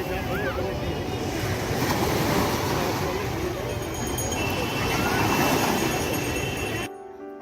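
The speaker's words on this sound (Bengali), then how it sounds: "চলো একটু সমুদ্র সৈকতের ঢেউ তোমাদের দেখিয়ে দিই।" Sea waves break on Puri beach in a continuous, washing roar of surf that swells and eases, fairly close, before cutting off abruptly near the end.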